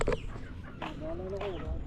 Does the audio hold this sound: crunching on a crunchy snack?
no